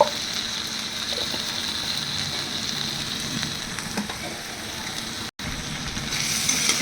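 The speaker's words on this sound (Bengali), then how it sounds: "এবার এর মধ্যে দিয়েছি কিছুটা জল।" A pan of soybean and potato curry sizzles and hisses steadily after water is added, a continuous bubbling fry with a brief drop-out near the end.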